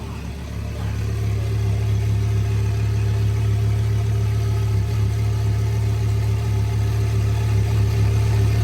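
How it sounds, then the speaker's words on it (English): A 2018 Audi R8 fitted with an AMS Alpha 9 twin-turbo kit runs steadily and loudly with a deep, even engine drone throughout, close by, with no clear rev spikes and faint voices in the background. "Give it a rev."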